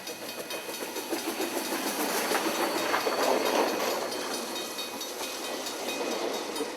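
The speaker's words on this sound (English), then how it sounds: "Fielding Steam Rail Society's WAB 794 took over for the run to Taihape." Steam locomotive WAB 794 hauls a train toward Taihape, giving a steady rolling rumble with rhythmic chuffing and wheel clatter, moderately loud and continuous without talk.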